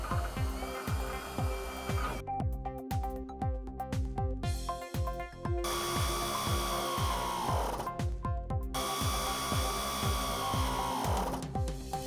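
A power tool, likely an impact driver, runs bolts into a suspension cross member on a GM S10, S15 or Sonoma during a coilover install, with a rapid rattling hammer throughout, loud and close, with no talking.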